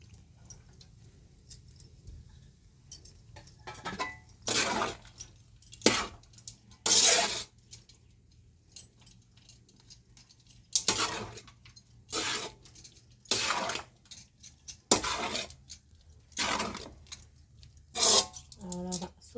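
Coriander leaves are stirred into coconut rice in a pot, giving repeated short scraping and clinking spoon strokes at irregular intervals, close and moderately loud over a low steady hum.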